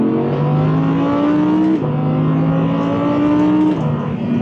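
An Audi R8 V10 Performance engine revs hard while accelerating up a winding road, loud and close, its rising howl climbing through the gears with brief dips at each upshift.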